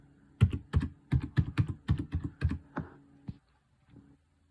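A password is typed on a computer keyboard during a Debian install on a mini PC: about a dozen quick, close keystrokes in an uneven rhythm, then a pause and one last soft tap.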